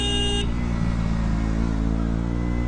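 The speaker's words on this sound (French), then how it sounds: "il klaxonne quand même l'autre" A car horn sounds in a steady, sustained honk during a motorcycle ride on the road, laid over loud, close engine drone and wind rush, with no talking.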